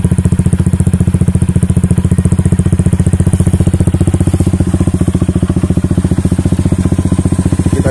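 A Yamaha New Megapro motorcycle fitted with an R9 Valencia racing exhaust idles loud and close, its rapid, even, throbbing pulses holding steady for about eight seconds with no talk.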